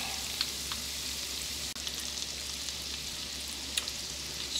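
Sausage browns in a hot pan with a steady, close sizzle and crackle, a few brief pops and a short clink of stirring partway through.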